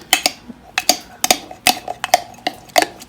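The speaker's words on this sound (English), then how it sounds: "She stirred hers." A spoon stirs caramel apple mug cake batter with apples inside a mug, clinking sharply against the sides in a steady run of about eight quick taps, close and clear with quiet gaps between.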